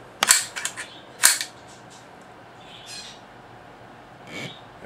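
Sharp mechanical clicks and snaps from a Winchester Model 63 .22lr rifle during a function check: a close cluster of clacks, a second crisp snap a second later, then softer handling noises.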